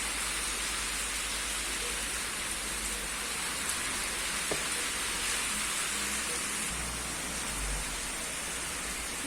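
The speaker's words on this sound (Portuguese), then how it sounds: "Olha a chuva, lá dizer. A chuva chega do chover aqui. Tá caindo água aí, ó." Heavy rain pours steadily over Lage dos Negros in Campo Formoso, a dense, unbroken hiss with a faint low rumble underneath, close and constant throughout.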